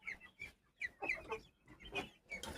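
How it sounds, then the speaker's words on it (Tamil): A rooster clucks in a string of short, separate calls with small pauses between them. The calls are fairly close and come without any talk. "சேவலும் அது கூட தான் சேர்ந்து சுற்றுது"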